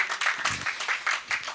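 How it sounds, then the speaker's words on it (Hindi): A burst of applause from a crowd, with dense, rhythmic clapping that stays fairly steady and moderately loud for a second or two. "गर एक बार जोरदार तालियां मिले"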